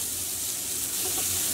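Sliced onion fries in oil in a pot over medium heat, giving a steady, close, hissing sizzle that stays even and broadband throughout the brief moment, with no talk.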